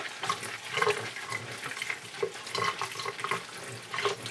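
Tap water running over fabric in a sink as it is soaked before painting, a steady splashing flow with uneven gurgles and pulses as the cloth is worked under the stream, close and alone.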